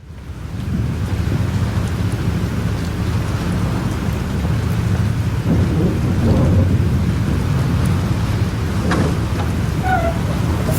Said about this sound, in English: Holy shit. This storm is real.